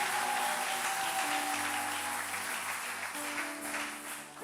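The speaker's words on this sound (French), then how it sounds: "Est-ce que tu peux applaudir ton Dieu?" A Sunday church service congregation applauds God, a broad, fairly faint wash of many hands clapping in a reverberant hall, steady then slowly tapering, with no speech on top.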